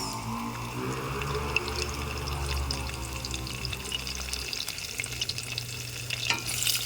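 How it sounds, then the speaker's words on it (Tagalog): Garlic and onion frying in a pan, a constant close sizzle with spatula stirring and scraping, over a low hum that fades partway through; no one speaks. "Ngayon nilalagay natin yung sibuyas."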